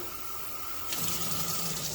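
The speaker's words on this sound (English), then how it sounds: "put the sink back on, grab some more water" Water from a kitchen sink tap starts running partway through, a steady close rush that fills the rest of the moment with no talk.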